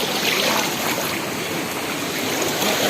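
Strong water current rushes steadily at a hidden waterfall pool at Arapay Falls in San Jose, Occidental Mindoro, a constant broadband roar, close and loud throughout.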